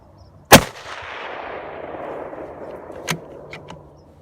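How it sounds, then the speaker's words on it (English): A 6.5 PRC Ruger Hawkeye rifle fired outdoors at a range: one sharp, loud shot with a long rolling echo, then a fainter distant report and a couple of small clicks. "this is video from my very first shots out of the box with the rifle."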